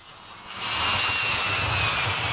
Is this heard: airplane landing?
yes